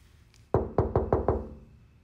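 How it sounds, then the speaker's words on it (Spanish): Five quick, firm knocks on a door in a steady rhythm, close and sharp, with a faint tap before them and quiet afterward, no talking. "le toco la puerta a ver qué hace"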